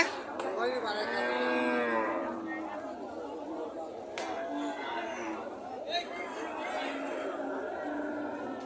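Cattle at a busy outdoor bull market near the India border, a loud drawn-out moo close by early on, then further lowing and shuffling under a steady hum of crowd chatter with people talking nearby.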